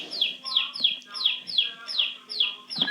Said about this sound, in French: C'était un poussin.